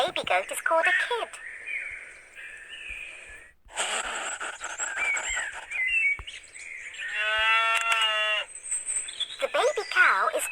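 A cow moos on a farm in one drawn-out, wavering call, loud and close, amid other livestock calls and a short bird chirp, with no talk over it.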